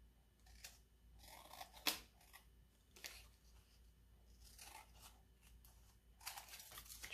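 Scissors snip and trim a sheet of paper straight, a few soft close cuts and crisp paper rustles, quiet overall with small sharp clicks.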